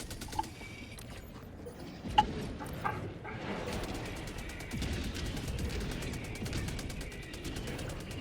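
An upgraded Knight SMG fires in the video game Helldivers 2: faint, rapid automatic bursts of quick, evenly spaced shots, after a few isolated clicks and thumps, over low background rumble.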